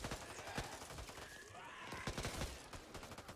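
Rapid gunfire in the video game Back 4 Blood, a burst of repeated sharp shots and mechanical clatter, fairly faint and continuous over a few seconds.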